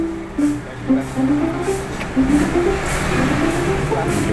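A motorbike engine revs close by on a muddy rural road near a river, its pitch repeatedly rising and falling with throttle, and brief voices are heard over it.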